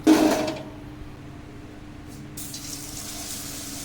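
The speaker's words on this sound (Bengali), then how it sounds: "এক এক করে সব বড়া কটা ভেজে নেব" Pumpkin leaf fritters frying in hot oil give off a steady, close sizzling hiss that starts with a brief louder burst and then settles into a continuous bubbling crackle.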